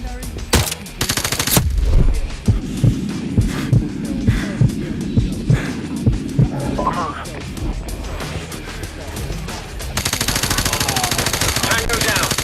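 A suppressed MP7 fires in Call of Duty: Modern Warfare Remastered, with muffled thumping shots in short bursts and rhythmic pulses over a low hum, a clatter at the start, and a louder dense stretch near the end.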